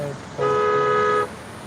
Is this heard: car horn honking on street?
yes